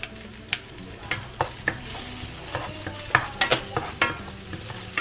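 Garlic sautéing in oil and butter in a pan for chili con carne: a bright continuous sizzle broken by repeated sharp clicks and scrapes of stirring against the pan, close and alone.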